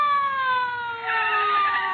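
An emergency vehicle siren in an old radio comedy: a loud, sustained wailing tone with several stacked pitches sliding slowly downward, heard on its own without talk.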